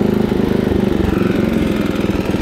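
A 1968 Snapper Comet 30 riding mower with a 6 horsepower engine and a hot dog muffler runs loud and close, a steady rapid chugging drone with a pulsing rhythm and no voices.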